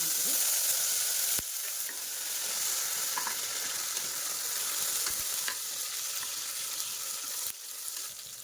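Masala and chopped tomato frying in hot oil in a pan, a steady close sizzle with occasional stirring scrapes and a few brief dropouts, no talking.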